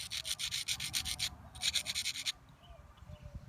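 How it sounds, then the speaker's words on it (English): The edge of a knapped stone Clovis point is ground with quick rhythmic back-and-forth rasping strokes, close and crisp, in two runs separated by a brief pause, then soft scraping. "Let me see if I can grind it a little bit and you'll be able to see it."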